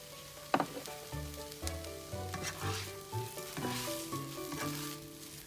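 Glass noodles stir-fried with soaked dried shrimp, tomato and pork belly, a quiet close sizzle with occasional utensil knocks against the pan, set under soft melodic background music.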